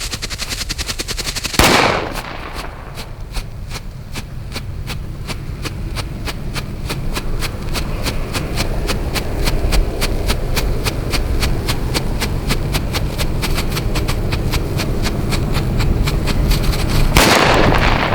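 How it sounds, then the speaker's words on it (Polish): Flash Banger firecrackers, older and newer stock, going off in a long rapid string of sharp cracks that runs almost without pause for about fifteen seconds, loud and close, with a single big bang near the start and again near the end. "Bardzo fajne petardy."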